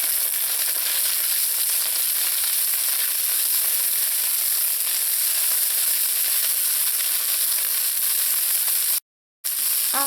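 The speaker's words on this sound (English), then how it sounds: "When the onions are soft and they start to brown, add in the garlic and the ginger." Onions, garlic and ginger sizzle in a pan for a vegetable biryani, a loud steady hiss of frying that holds for most of the stretch, then cuts out briefly near the end.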